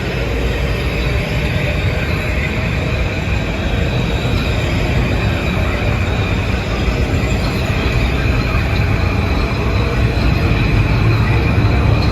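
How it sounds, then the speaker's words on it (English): Metro-North local train of M8 electric multiple units from Stamford to Grand Central passes close by, a continuous loud rumble of wheels on rail with steady high whine, sustained evenly throughout. "It's a local from Stamford to Grand Central with the ubiquitous M8s."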